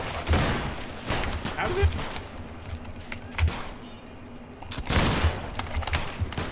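Old rifles firing in Battlegrounds 3, a series of sharp in-game gunshots spaced a second or two apart with a faint rumbling backdrop, while players talk over the shots.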